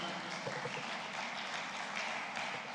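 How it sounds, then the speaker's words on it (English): Many hands clap together at a West African clean energy conference, a steady and even wash of applause that holds unbroken from start to finish. "Keep clapping."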